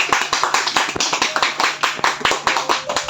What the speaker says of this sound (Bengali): আমরা সকলে হাততালি দিই